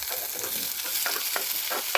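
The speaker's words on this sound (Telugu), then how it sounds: "నెక్స్ట్ స్టవ్ పై కడాయి పెట్టుకొని కొంచెం ఆయిల్ వేసుకొని 2 ఆనియన్స్, 2 టమాటాలు వేసి లైట్గా మగ్గించుకోవాలి" Onions and tomatoes fry in oil in a kadai, a steady close hiss of sizzling with a few soft stirring scrapes and no voices.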